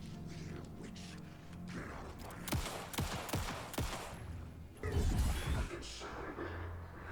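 Gunfire in the video game Alan Wake 2: a short cluster of sharp shots fired in quick succession mid-stretch, then a louder burst, over a low game ambience, with a voice briefly speaking.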